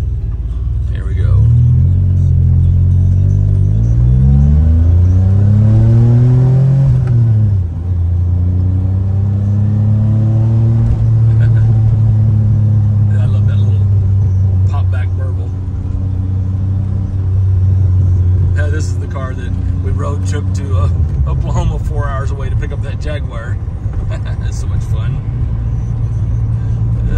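A low-mileage, all-original DeLorean engine rumbles and revs steadily, with pitch rising and falling through acceleration, loud and close, running throughout with faint voices now and then.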